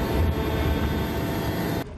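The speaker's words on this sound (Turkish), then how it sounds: "Sesini alevlere müdahale eden helikopterler bastırdı." Firefighting helicopters flying over a wildfire, a loud steady engine and rotor roar that fills the scene and then cuts off abruptly.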